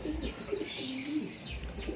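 A pigeon or dove coos in a few soft, low repeated phrases over steady outdoor background noise, fairly close and moderately loud.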